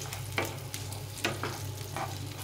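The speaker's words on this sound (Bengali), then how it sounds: "এখন আমি এখানে নিয়েছি কিছুটা কিশমিশ আর কাজু বাদাম, এটাকে ভালো করে ভেজে নিতে হবে।" Raisins and cashew nuts fry in a pan for a temple offering dish, giving a steady low sizzle with a few scraping stirs of a spoon, close up with no talk.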